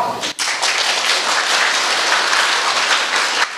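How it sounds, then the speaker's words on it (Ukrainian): A standing ovation after a patriotic lesson, dense sustained applause from a large indoor audience, loud and continuous for several seconds. "По завершенню патріотичного уроку Володимиру Балуху аплодували стоячи."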